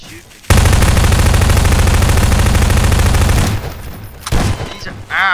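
Sustained automatic gunfire from Garry's Mod, a dense loud burst lasting about three seconds before cutting off, followed by a couple of scattered shorter shots.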